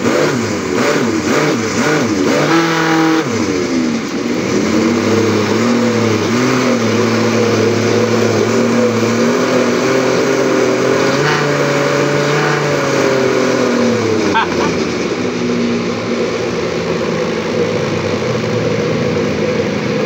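A blender motor whirs loudly and steadily while blending fresh mango into a shake, its pitch dipping and settling as the load changes, running close and continuous with no talk.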